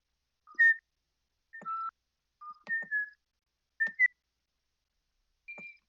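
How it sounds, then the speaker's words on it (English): Someone whistles short, clear two-note phrases, five or six of them spaced by brief pauses, with faint taps in between. "That whistling is very loud for some reason."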